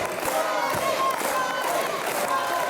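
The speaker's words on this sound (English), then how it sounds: "Crowd now getting behind Jonny Storm." A wrestling crowd at a live pro-wrestling event roars and chants for Jonny Storm, a dense, loud, continuous wall of voices with rhythmic shouting and some clapping mixed in.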